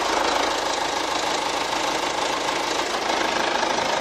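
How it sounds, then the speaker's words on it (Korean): A Hyundai SUV's diesel engine runs at idle with the bonnet open, giving a steady, close mechanical clatter and hum that stays even throughout, with no voices over it. "엔진 소음 먼저 들려드리면은"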